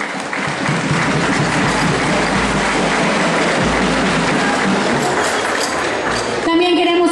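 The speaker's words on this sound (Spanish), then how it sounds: "Le brindemos un fuerte aplauso, por favor." Steady, dense applause from an audience at a 2014 queen pageant in Santa Cruz fills the hall for several seconds at an even level, and a few voices can be heard underneath.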